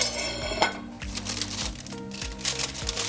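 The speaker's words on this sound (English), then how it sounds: "I'm going to take a fish spatula" A fish spatula scrapes and lifts cooked salmon from a pan beside stovetop-cooked pineapple, giving a steady run of metallic scraping and clinking with low background music throughout.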